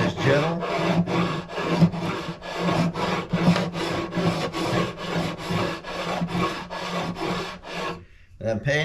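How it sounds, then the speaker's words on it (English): A sanding block passes lightly back and forth over guitar frets in a quick, even rhythm of about two strokes per second, close and raspy, then stops near the end. "So I'm going to take the sanding block and I'm just going to very lightly do this."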